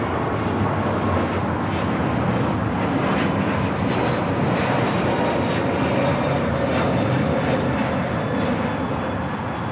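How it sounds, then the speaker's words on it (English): United Airlines flight 2487, an Airbus A321neo, takes off at Los Angeles International for Chicago, its engines a loud, steady broadband roar that holds close and constant throughout with no talk. "This is United Airlines 2487 taking off to Chicago on the A321neo"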